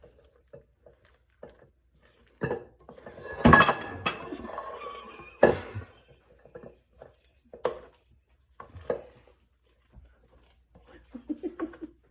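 A utensil scrapes and clinks against a bowl as blueberries are gently folded into batter for a dessert, in sparse, irregular bursts separated by quiet.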